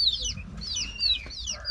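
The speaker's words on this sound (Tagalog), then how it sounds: "yung nakubili kong sisiw na yan, week old pa lang po yan" Week-old native chicks peep in quick, high, repeated chirps that are close and clear, with low background noise.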